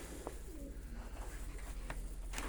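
Pigeons in a breeder's loft give soft, low cooing calls in a few short bursts against a quiet, steady background hum.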